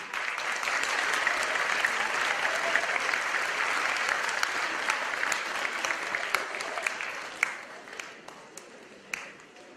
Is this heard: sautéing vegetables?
no